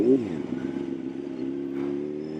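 A motorcycle engine idles and hums steadily at moderate distance, low and even with a slight rise, practising figure eights, with no talk.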